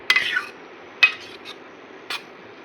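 A spoon scrapes and clinks in a pan as bamboo shoot bhaji is stirred with grated fresh coconut, three distinct scraping strokes spaced about a second apart, close and fairly loud.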